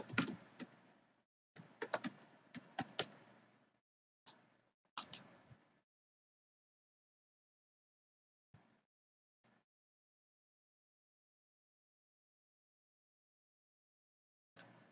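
Bursts of typing on a computer keyboard while logging into a fresh Kali Linux install, with quick clustered keystrokes early on, then long silence broken by a few isolated taps and a final keypress.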